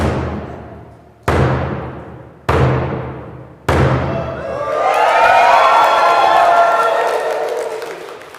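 Four loud, resonant drum beats at an outdoor water bundle ceremony, evenly spaced and ringing out, followed by a crowd of adults and children bursting into a big sustained cheer and whoops.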